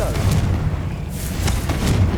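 The Confringo explosive spell blasts in Hogwarts Legacy, giving a deep booming burst followed by rumbling impacts and a couple of sharper pops, all moderately loud and continuous.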